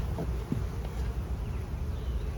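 Honey bees hum around a hive on a hot day in a soft, continuous drone close by, with light wind rustle around the microphone and no talking.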